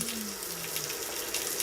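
Water pours steadily from a kitchen filter tap in a steady hissing stream, close and fairly loud, with no speech over it.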